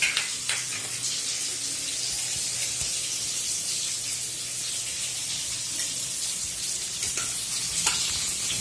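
Potatoes fry in a pan of oil for a duck curry, a steady close sizzle and crackle with occasional louder spits, lasting throughout with no talking.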